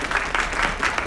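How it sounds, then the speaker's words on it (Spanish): Brief applause from a small group on a radio or studio broadcast: a steady patter of clapping at close range, fairly loud. "Innecesarios los aplausos"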